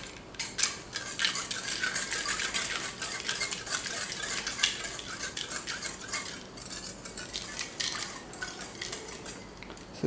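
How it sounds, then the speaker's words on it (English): Masala Pepsi drink being stirred with soda and added ingredients, a steady run of fast metallic spoon clinks and scraping against a glass or jug, close and continuous without talk. "after adding the soda we will mix the Pepsi"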